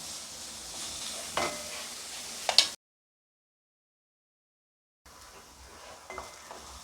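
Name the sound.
sautéing vegetables in a pan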